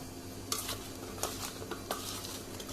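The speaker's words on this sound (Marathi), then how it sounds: "आता हे मिक्स करता" A spoon stirring red chili powder, turmeric, salt and kokum together in a bowl, with faint scraping and three sharp clinks against the bowl over a quiet background.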